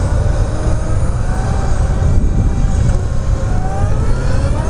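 Harley-Davidson LiveWire electric motorcycle riding on a police competition course, a steady loud whine and rushing wind noise that holds constant throughout with faint rising tonal hum.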